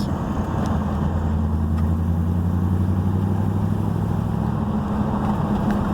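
A carbureted LS-swapped Chevrolet S10 with an MSD timing control idles close by in a steady low rumble that cuts off near the end.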